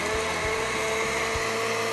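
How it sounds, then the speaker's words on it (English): A blender whirs steadily through pitted cherries, a loud continuous motor drone with a few soft thumps of fruit tumbling against the blades. "Blend them to a nice consistency."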